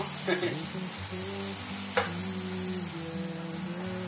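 Mushrooms and garlic frying in a pan for a rabbit liver and kidney dish, a steady bright sizzle throughout with a couple of brief stirring scrapes, close and continuous, no voices.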